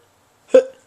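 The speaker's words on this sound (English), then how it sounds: "Hiccup!" A single sharp vocal hiccup, close and loud, with a quick onset and a short fading tail, set against silence.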